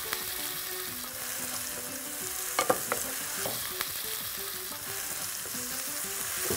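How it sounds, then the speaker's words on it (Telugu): Thinly sliced onions frying in oil in a pan for mutton curry, a soft, steady close sizzle with a few brief clinks and scrapes of stirring partway through, no talking. "ఉల్లిపాయ కూడా బాగా బంగారు రంగు వచ్చేదాకా ఏపలరా"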